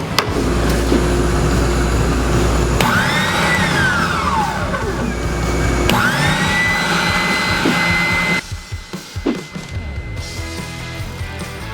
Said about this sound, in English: So now we can use the spindle sander to really smooth that up.